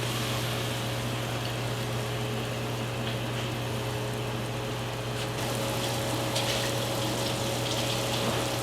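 A pot of Filipino seafood kare-kare boils on the stove after banana heart is added, giving a steady watery hiss and bubbling over a low constant hum. A few faint splashes and clinks come later, with no talking.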